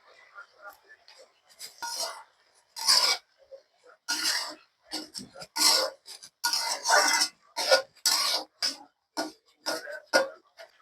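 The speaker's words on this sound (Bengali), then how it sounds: "কচু শাকগুলো আমি এভাবে নাড়তে থাকবো" Taro leaves with small shrimp are stirred in a pan, making close, rhythmic scraping and rustling strokes in quick, repeated bursts, with no speech.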